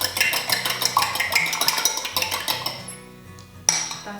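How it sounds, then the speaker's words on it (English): An egg whisked briskly in a bowl, a fast rhythmic run of clinking and tapping strokes against the sides, close and clear, trailing off before a final sharp clink. "Just going to whisk that there"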